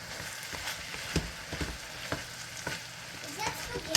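Hotdogs sauté in a pan for creamy spaghetti, giving a steady crackling sizzle with scraping stirs and light clinks on top, close by and without speech.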